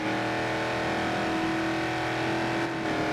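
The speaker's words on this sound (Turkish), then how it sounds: "Çok hızlı arkadaşlar bizim arabamız." Car engine in a Roblox driving game, a steady loud revving drone that holds throughout without breaks, alone with no voices.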